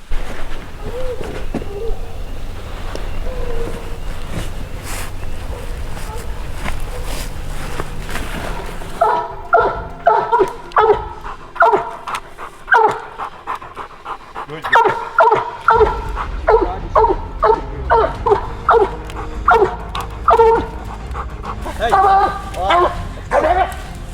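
Hunting hound baying on a raccoon trail, repeated bawling barks in an uneven rhythm at middle distance, rising in intensity partway through, with someone talking in the background over much of it.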